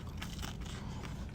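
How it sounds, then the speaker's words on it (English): A bite into a crunchy falafel sandwich at an Armenian restaurant, a close, steady crackling crunch that lasts the whole short moment, with no talk over it. "Crunchy on the outside, soft as a pillow on the inside."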